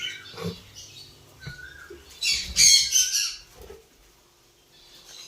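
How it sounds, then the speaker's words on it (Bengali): A pair of Java sparrows, a black male and a white female, give a few short calls followed by a loud burst of harsh squawking up close, then fall quiet. "এখানে এক পেয়ার জাভা আছে, ব্ল্যাক জাভার মেল এবং হোয়াইট জাভার ফিমেল।"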